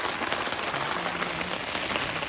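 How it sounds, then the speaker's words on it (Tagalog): Steady rain falls outdoors, a dense, even hiss of drops on surfaces heard alone without pauses. "It's raining."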